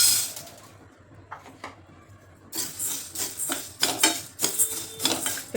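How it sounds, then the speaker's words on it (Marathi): Dry moong lentils are poured into a pan for dry-roasting and then stirred, giving a quiet start and then a steady scraping, rattling clatter of grains and utensil against the metal pan. "आता मूग टाकायचे"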